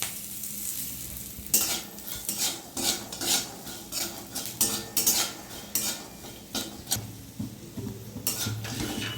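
Peanuts sizzling in hot oil with a pinch of salt, as a spoon stirs and scrapes the pan in steady, repeated strokes over a continuous frying hiss, close and fairly loud, no voices.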